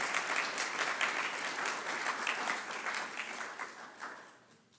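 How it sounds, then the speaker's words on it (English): Audience applause fills a hall at the UW Tacoma MSBA hooding ceremony in 2022. The clapping is dense and sustained, then thins and fades toward the end. "a big round of applause for the family members, friends, and fellow students"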